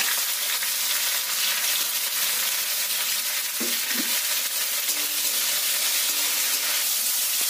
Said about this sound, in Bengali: ডিমগুলো লাল লাল করে ভেজে নেব